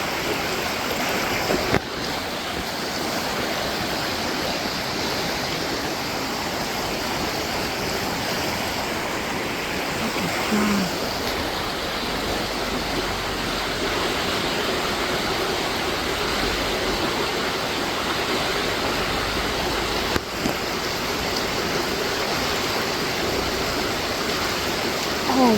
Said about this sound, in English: Such a beautiful river.